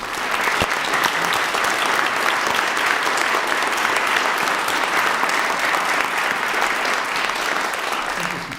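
Applause at a town caucus meeting in Concord, a sustained, even wash of clapping from a seated crowd that lasts the whole stretch with no break.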